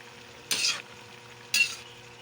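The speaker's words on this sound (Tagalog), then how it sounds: "Ang ginisa ko lang siya guys ng bawang, sibuyas." Squash, long beans and okra are sautéed with garlic and onion in a pan: a low background sizzle with two loud, bright bursts of stirring about a second apart.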